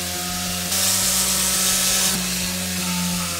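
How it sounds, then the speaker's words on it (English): A power sander working over a rough, non-weatherproof wooden pallet, a steady whine with a brighter, harsher surge in the middle as it bites into the wood, heard alone with no talking. "So step one is sanding this down."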